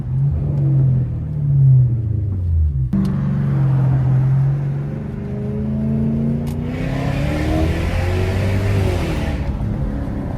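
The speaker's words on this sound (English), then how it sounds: "Hold on, y'all listen for the downshift." Lexus GS430 V8 with no catalytic converters, heard loud and close from inside as the engine revs, drops in pitch through a downshift and then climbs again, with a raspy exhaust rumble throughout and no talking.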